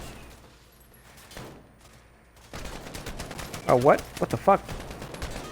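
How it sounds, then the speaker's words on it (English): Gunfire in Call of Duty 2, a few distant shots early, then a louder stretch of rapid bursts and impacts in the second half, with a man exclaiming over it. "I don't quite know where I'm being shot from"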